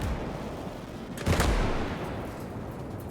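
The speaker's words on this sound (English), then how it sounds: "we have got a winner for the most explosions, and that goes to STRUMTIGER" A Sturmtiger's heavy explosion in the WWII game Gates of Hell Ostfront, one sudden deep boom rising over a rumbling battlefield of distant gunfire, then a long rolling decay.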